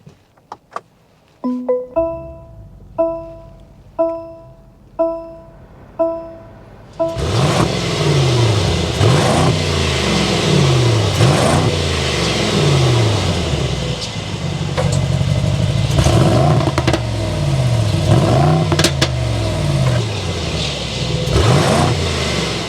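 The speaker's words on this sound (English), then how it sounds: "We need to go inside, start it up, so you can hear that exhaust note." A series of short chimes is followed by the bi-turbo V8 of a 2024 Mercedes-AMG GLS 63 SUV starting and revving repeatedly, the exhaust rising and falling in loud bursts.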